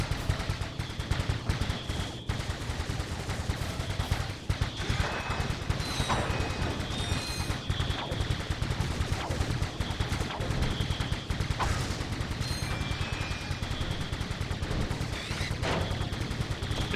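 Weapons fire repeatedly in Ratchet and Clank, bursts of shots and blasts recurring through dense, busy game action, fairly loud with layered effects.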